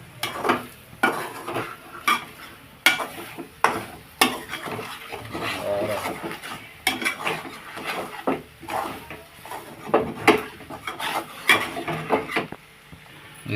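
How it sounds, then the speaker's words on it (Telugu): A spoon stirs kandankailu curry in a pot, producing repeated irregular scrapes and knocks against the metal over a low sizzle, close and fairly loud, with no talk. "ఈ రెండు వేసిన తర్వాత ఒక 5 మినిట్స్ మొత్తం బాగా కలుపుకొని"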